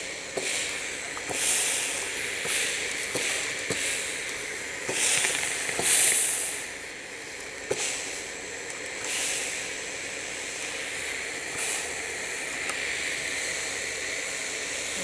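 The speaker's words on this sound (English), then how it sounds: "I'm not touching the actual fabric, I'm just pressing the steam button." A steam iron, held just above bleach-treated fabric without touching it, releases repeated short hissing bursts of steam in a steady rhythm, close and moderately loud over a constant background hiss.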